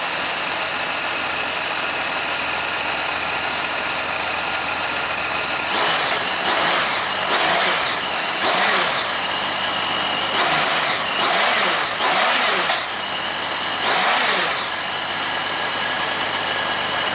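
Honda GL1500 Goldwing engine running after a carburetor clean on a cold day, a steady close idle interrupted by a series of repeated throttle blips that rise and fall in pitch before settling back.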